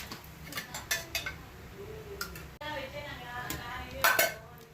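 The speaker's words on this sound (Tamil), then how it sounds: "ஒரு வானல் வச்சு அதில் இப்போ நம்ம எண்ணெய் ஊற்றிக்கலாம்." A frying pan set down on a stove and oil poured in while cooking mutton kuzhambu, a few metallic clanks and taps spaced out, followed by a soft ongoing rustle and a brighter clatter near the end.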